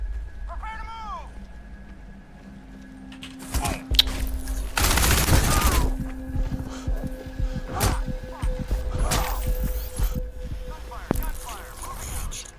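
Bursts of rapid video game gunfire crackle amid shouting voices, with a heavy burst of loud shots near the middle and scattered shots continuing afterward.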